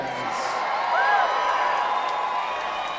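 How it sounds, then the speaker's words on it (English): A Twin Falls crowd, travelled to Boise for a Front Street Fights boxing event, cheers and whoops for boxer Cesar Cervantes in a steady, loud wash of crowd noise with a rising swell of shouts in the middle. "the Twin Falls crowd has traveled away to Boise tonight to cheer on Cesar Cervantes"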